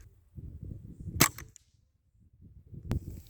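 Two sharp, muffled pops about two seconds apart from a Savage 64 rifle fitted with a sound moderator, each a brief broadband crack with a short metallic tail, over faint low rustling.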